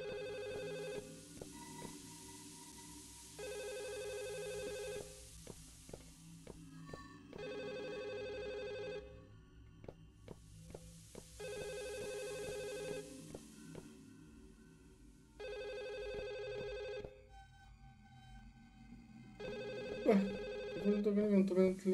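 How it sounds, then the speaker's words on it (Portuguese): A telephone rings repeatedly in a video game, with long regular bursts of electronic ringing separated by pauses, over game ambience and occasional talk. "Não é esse telefone que tá tocando?"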